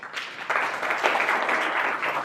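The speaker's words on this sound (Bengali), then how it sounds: "ওর জন্য একটা হাততালি দাও।" A classroom of students claps for a classmate who answered correctly, a short burst of fairly quiet, evenly sustained applause.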